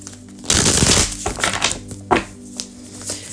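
Tarot cards being shuffled by hand, a dense riffling, crunchy burst of about a second, followed by several shorter irregular card flicks and slaps, close and fairly loud, with no talking.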